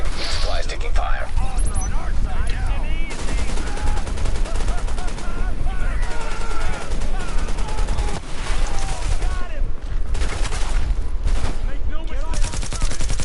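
Dense, rapid gunfire from The Division video game rattles in loud, overlapping bursts, with someone talking over the shooting throughout.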